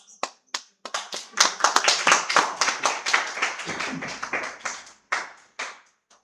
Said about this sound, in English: I request everyone to welcome Mr. Rajendra Asuri, sir, with a warm round of applause